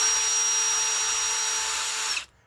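A power drill whines loudly and steadily at close range while removing bolts from an electric car battery pack, then stops abruptly near the end, leaving near silence.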